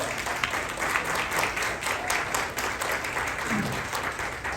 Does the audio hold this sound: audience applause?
yes